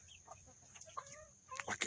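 Chicken clucking, a big healthy hen, in short soft calls that come and go over a faint background, rising to a few louder clucks near the end.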